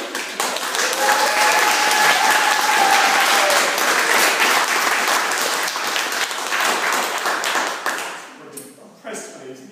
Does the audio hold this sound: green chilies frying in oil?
no